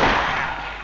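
A single loud gunshot blast in the video game Silent Hill fills the moment, a sharp broadband crack with a brief decaying tail, cut off abruptly.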